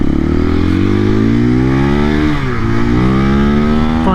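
A 2024 KTM EXC-F 500 Six Days dual sport motorcycle roars close and loud under acceleration, its single-cylinder engine pitch climbing steadily, dipping briefly on a shift, then pulling again.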